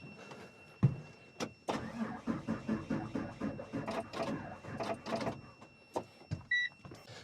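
A 6.7 liter diesel engine with two batteries cranks on a Milwaukee M18 jump starter, giving a strained, churning starter whir in bursts with sharp clicks and pauses between attempts, close and fairly loud.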